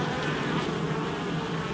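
Honeybees buzzing in an open hive during a queen cell inspection, giving a dense, continuous hum of many calm bees, close and steady throughout with no talk.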